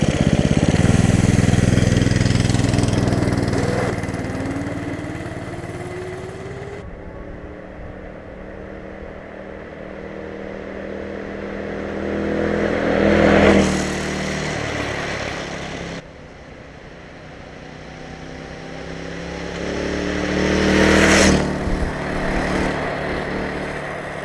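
A Predator small engine vehicle runs out on the road, its droning motor rising and falling as it makes repeated passes, swelling louder near about 13 and 21 seconds, then fading back to a steady distant hum.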